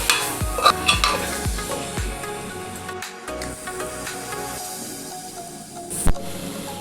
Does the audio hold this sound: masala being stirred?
yes